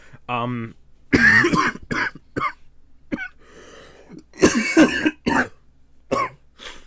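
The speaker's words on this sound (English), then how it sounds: "The coughing fits come and go." A few sharp, close coughs and throat-clearing bursts, scattered irregularly with short pauses between them.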